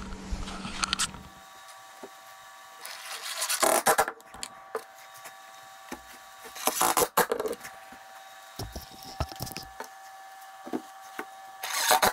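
Wood is hand-sawn to cut brackets for a miter bench, with several bursts of rasping strokes separated by pauses, fairly close and moderately loud, with no talking.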